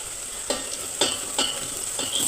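Spices for lemon pickle are stirred in a hot pan over a soft background sizzle. Four or five distinct scraping strokes of the spoon come at a steady rhythm, close by, with no talking.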